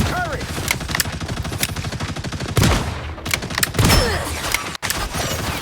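Rapid automatic turret gunfire in the video game Marvel Rivals, loud and close, sustained bursts of fast repeated shots with brief breaks, amid game effects.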